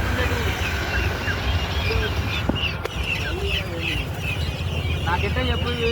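Guinea fowl and chickens call at the Kothagudem Sunday market, their clucks and cries rising from a busy, steady crowd murmur and general bustle.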